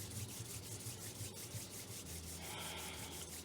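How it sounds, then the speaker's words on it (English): Palms rubbing briskly together during a breathing exercise, a steady close dry friction swish that holds for the whole stretch and gets a little brighter toward the end. "speed up the rubbing of the hands just a little bit more fast and energetically"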